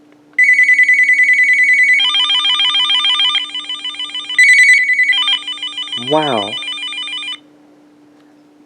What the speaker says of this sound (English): 900MHz DSS phone with caller ID with the traditional flicker and clatter ringtones.